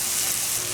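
Garam masala sizzles in hot ghee or butter for chicken tikka masala, a brief, dense, steady hiss of frying.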